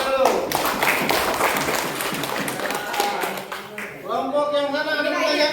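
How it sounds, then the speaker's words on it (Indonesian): Students clap together during a school orientation session in a classroom, the dense patter filling most of the moment with voices mixed in, before talking takes over near the end. "Oke, tepuk tangan dulu."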